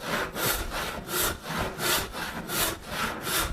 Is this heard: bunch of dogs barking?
no